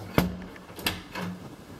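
A door in the interior of a 1970s Dallas duplex is opened and closed, giving a faint sharp click or knock followed by a softer second thump a moment later in a quiet room.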